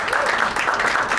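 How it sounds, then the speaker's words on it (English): Dense applause from a climate justice panel audience fills a short stretch, steady and close. "I just want to give a final round of applause for Jenny and Mora."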